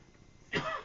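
A single short cough from a man on a radio talk show, close to the mic and sudden after a near-silent moment.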